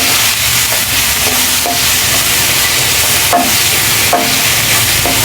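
Food fries in a pan with a loud, constant close sizzle, broken now and then by short scraping stirs. No voices are heard.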